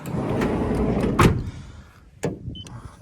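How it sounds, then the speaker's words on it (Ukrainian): A 2019 Volkswagen Transporter T6 Long van door shuts with a sharp thump near the middle, followed by another softer knock and small clicks, close and alone without talk. "Звук дверей як закривається"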